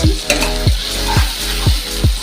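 Chopped tomatoes with ginger-garlic paste sizzle in a pan for a Bengali fish-head rice dish, a steady fry punctuated by about five rhythmic stirring scrapes, close and loud.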